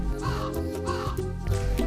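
A cartoon crow caws in an animated children's story, a few loud harsh caws in quick succession, close and clear over faint background music.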